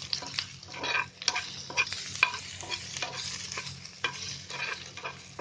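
Masala and pieces of kokum are stirred in a cooking pan for a dry Bombay duck curry: a soft sizzle under frequent, close scraping and stirring strokes, over a low steady hum and without any speech.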